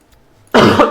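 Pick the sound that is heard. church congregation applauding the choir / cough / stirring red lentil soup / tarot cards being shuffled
cough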